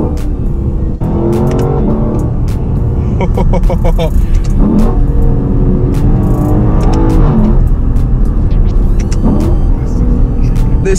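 A 2018 Lexus LC500 V8 roars loudly and close up throughout, with repeated revs rising and falling and crackling exhaust bursts as gears change. The car is heard from inside while driving.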